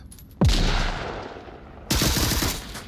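Two loud, close gunshots ring out in the VR shooter Onward during a competitive match, each a sharp crack followed by a rolling echo.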